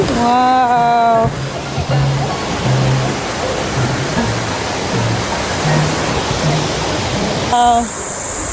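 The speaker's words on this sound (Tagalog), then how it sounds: "Third time in Kanumantad Falls." Kanumantad Falls waterfall roars as a steady, loud broadband rush of falling water, with voices briefly exclaiming at the start and end.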